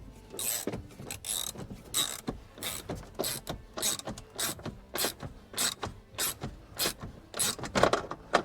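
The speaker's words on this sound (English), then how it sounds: "guess it's time for ratchet action. Manual ratchet action." A manual ratchet clicks steadily as it turns a trim screw on a Toyota Tundra, about a dozen close, even pawl rattles in a regular back-and-forth rhythm with rubbing in between.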